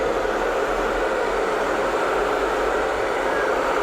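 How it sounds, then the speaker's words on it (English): A hair dryer blows hair in a barbershop with a constant, even whoosh, steady and close, with no talking. "So what I'm doing with the hair dryer now is just grab the front section up,"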